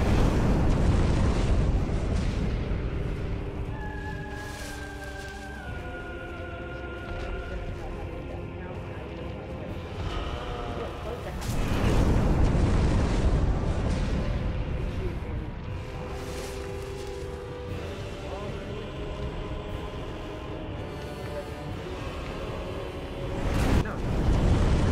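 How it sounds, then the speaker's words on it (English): A video game creature spews fire in long, rumbling, roaring blasts that swell and fade over several seconds, with tonal game sounds mixed in and a sharp burst near the end. "He would stop spewing fire"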